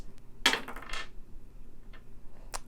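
A die clatters across a hard surface, with a sharp burst of rattling followed by a couple of faint ticks as it settles.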